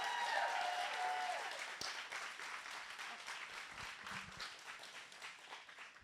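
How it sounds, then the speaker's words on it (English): Audience applause at a spring showcase event, steady clapping from a roomful of people that is loud at first and gradually thins and fades over several seconds. "please give them a round of applause."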